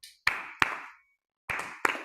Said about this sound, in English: And the gopis would clap.